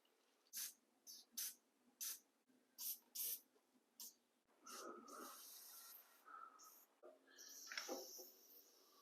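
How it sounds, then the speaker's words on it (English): PB Blaster penetrating oil sprayed onto brake bleeder bolts during a brake line job, heard as a series of short, sharp aerosol hisses in quick bursts, followed by a longer, steadier spray and some clattering nearby. "We're going to go around and throw some of this blaster on there before we go cracking them."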